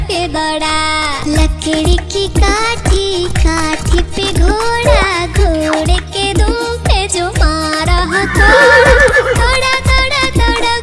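A horse neighs and whinnies within a Hindi children's rhyme about a wooden horse, loud and mixed with bright music and singing, with trotting clip-clop rhythm underneath.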